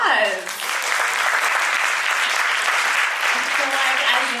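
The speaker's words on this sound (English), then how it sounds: "All right, another round of applause." A fashion runway show audience breaks into loud, sustained applause that fills the whole stretch, with dense overlapping clapping and a few faint voices mixed in.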